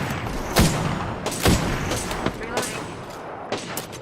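Bursts of gunfire in Apex Legends match play, several sharp loud shots with rapid follow-up fire spread across the moment, heard amid game action.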